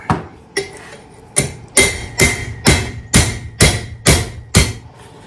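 Ten sharp metallic hammer strikes drive a bearing onto a shaft during hay equipment repair, evenly spaced, close and loud, each blow ringing briefly before the next, with no talk.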